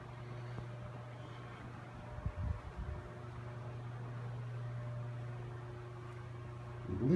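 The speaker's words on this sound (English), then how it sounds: "Ceiling fan installed in the downstairs bedroom." A ceiling fan runs in a downstairs bedroom with a steady, low motor hum that holds evenly throughout, broken by a few soft knocks partway through and a slight rise at the end.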